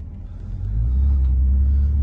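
A 2005 Audi TT Quattro with a 250 bhp engine sets off in drive, giving a steady low engine rumble that swells in the first moment and then holds loud and close, with a slightly jittery pull.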